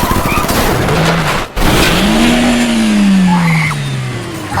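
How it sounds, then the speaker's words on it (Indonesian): Film scene of a car under brutal gunfire before it plunges into a ravine: a loud engine roars and revs close by with tires squealing, and a sharp crash-like cut breaks the sound midway. "Mobil mereka ditembaki dengan brutal hingga akhirnya terjatuh ke jurang."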